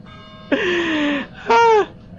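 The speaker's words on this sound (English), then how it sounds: "That's one hell of a bell." A bell rings twice in the video game Getting Over It: a sustained tone with a gliding, bending pitch for under a second, then a second, brighter strike with rich overtones, clear and prominent over faint background hum.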